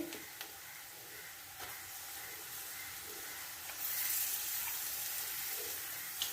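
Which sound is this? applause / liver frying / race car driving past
liver frying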